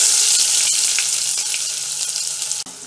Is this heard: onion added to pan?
yes